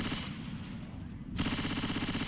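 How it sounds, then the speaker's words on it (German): Rapid automatic gunfire cuts down zombies in Left 4 Dead 2, a steady rattling stream of shots that pauses briefly and then resumes louder, close and continuous with no talk over it. "Ich schieße die da oben runter."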